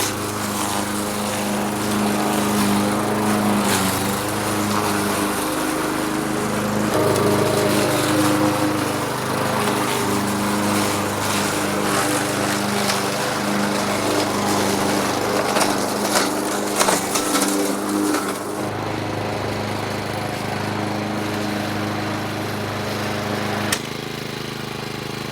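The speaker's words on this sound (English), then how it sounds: "My tea time mission to boldly mow where none have mown before." A petrol lawn mower cuts an overgrown garden with a loud, steady engine drone close by. Its pitch and load shift as it works through the growth, then it drops to a lighter idle for the final stretch.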